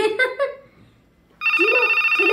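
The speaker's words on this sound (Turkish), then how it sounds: "telefonun çalıyor, duyuyor musun?" An electronic phone ring in a Sonic video game starts partway through and continues steadily, loud and close, after a stretch of talk and a quiet pause.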